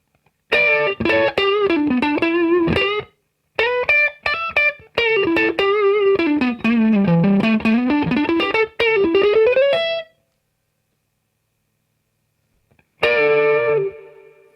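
An electric guitar plays dry through a Roland Blues Cube Artist amp without reverb, with strummed chords and picked runs in bursts, pausing into silence before a final chord rings out.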